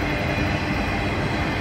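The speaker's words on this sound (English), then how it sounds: "The train's been going for miles, as far as you can see." Long freight train carrying military tanks rolling past: a loud, steady rumble and roar of rail cars, close and continuous throughout with no voices.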